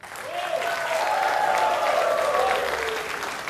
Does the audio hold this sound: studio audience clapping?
yes